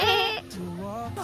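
A goat at a farm in Bali gives a short, wavering bleat up close, which may be a person imitating it as another voice overlaps.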